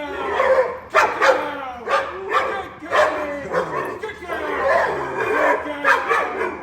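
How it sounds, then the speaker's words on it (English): A seven-month-old female Chinese red dog barks repeatedly in short, loud bursts during bite and protection training, while handlers talk and give commands nearby. "we're trying to get her to bark"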